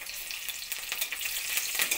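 Crushed garlic and green chillies sizzle and crackle in hot oil in a pan, a steady close frying hiss with a few stirring scrapes and no talk.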